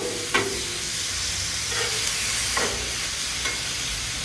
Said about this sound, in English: These onions. Push them over a little bit.